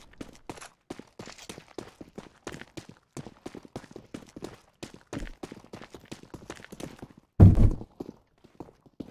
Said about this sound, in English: I hear walking.